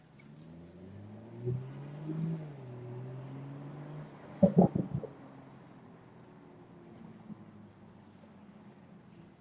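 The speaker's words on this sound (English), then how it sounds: "A Jeep pickup truck" A Jeep pickup truck's engine rumbles low and steady in New York City traffic, with a few sharp thumps midway and faint high chirps near the end.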